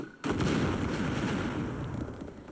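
A grenade explosion in Oddworld: Abe's Oddysee goes off with one loud, sudden boom that sustains as a long rumbling roar, gradually fading with no voices.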